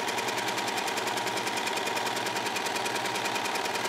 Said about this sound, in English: just by running it through the serger one time